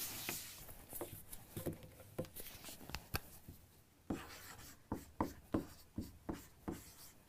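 Marker or chalk writing on a board during an algebra lesson, heard as a run of quick taps and scratchy strokes in uneven bursts at close range.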